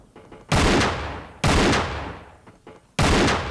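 Gunfire in the video game Tomb Raider: The Angel of Darkness, three loud heavy shots spaced over a few seconds, each a hard burst with a long booming decay and no talk over it.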